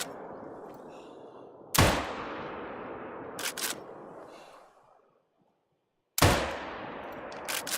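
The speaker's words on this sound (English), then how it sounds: "So yes, it is a lever action, and you probably caught that." Lever-action rifle shots in a hunting video game, loud single cracks with long ringing decays, one pair of quicker shots between, separated by a silent pause.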